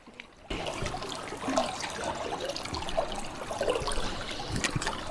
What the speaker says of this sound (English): there's the feeder river, stream, brook, whatever it is here